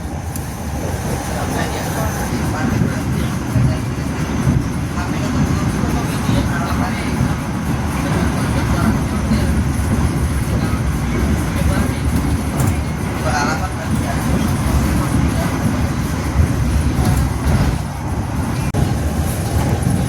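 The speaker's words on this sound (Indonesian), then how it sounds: "perjalanan kereta Tegal Bahari sudah melintas stasiun Karawang" The steady rumble and rattle of a Tegal Bahari executive train carriage fills the interior as it travels past Karawang, a continuous loud rolling drone with faint clunks throughout.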